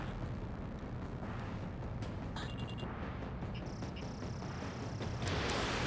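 Missile launch in the video game Ace Combat 7, heard as a sustained roaring rush of jet and rocket noise that carries steadily throughout, with a brighter surge near the end.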